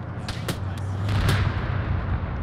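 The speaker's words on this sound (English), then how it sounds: "Is that a BMP-1? Sounds like a fucking big cannon." Heavy cannon fire from a BMP-1 infantry fighting vehicle in a military shooter game, a few sharp bursts early on over a low rumbling background, fairly distant rather than close.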